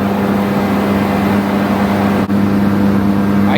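A tractor's 360 engine running on a chassis dyno in a machine shop, a loud, constant droning roar with a strong steady hum and one brief dip, with no talk.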